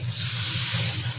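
Water hits a hot pan of ginger and dal and bursts into a loud, steady steam hiss that holds briefly and then eases a little.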